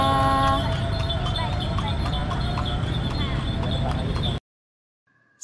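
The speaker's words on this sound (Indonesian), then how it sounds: "Tuk tik tak tik tuk tik tak suara sepatu kuda." Horse hooves clip-clop in a steady, brisk rhythm as a horse pulls a delman cart, loud and near, with a bright bell-like ring at the start before the sound cuts out abruptly.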